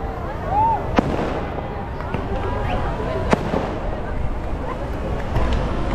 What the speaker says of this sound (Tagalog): nagkataon na may fireworks dito